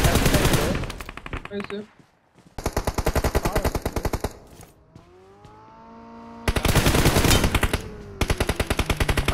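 Rapid automatic gunfire crackles in long, loud bursts during a shooter video game tournament match, broken by short pauses. A player's voice briefly cuts in.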